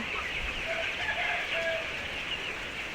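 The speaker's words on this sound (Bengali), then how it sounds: "এই যে শুয়ে আছে মুরগিটা" Chickens on a farm cluck softly, with a few short calls over a steady, noisy background hiss. No one is talking.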